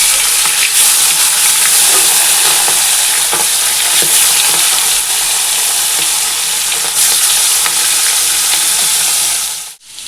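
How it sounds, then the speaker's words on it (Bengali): Fish fries in hot oil in a home kitchen, giving a loud, steady sizzling hiss close up that continues unbroken before cutting off at the end, with no talking. "মাছ ভাজা হয়ে গেছে"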